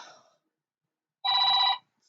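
A mobile phone rings with a single short, bright electronic chirp of layered tones, clear and close in an otherwise silent room.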